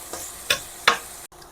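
Onions frying in a pan until reddish, with a soft sizzle broken by three sharp scraping stirs and a brief drop-out near the end.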